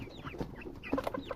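Chickens in a deep-litter poultry house cluck and squawk in overlapping bursts, several birds at moderate distance with a steady barn hum underneath and no talking.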